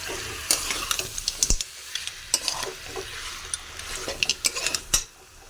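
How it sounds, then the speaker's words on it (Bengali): Snails being stir-fried in spice masala in a pan, with a soft sizzle under repeated sharp scrapes and clinks of a utensil against the pan at an uneven pace. "ভালো করে শামুক কষিয়ে নেব।"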